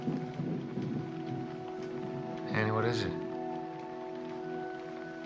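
Steady rain falls during a reflective movie scene, a soft even patter under a voice asking a short question.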